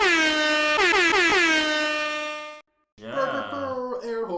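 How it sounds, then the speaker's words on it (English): A loud, sustained air horn blast lasts a couple of seconds and fades, then after a brief silence a second, wavering horn blares. "Air horns."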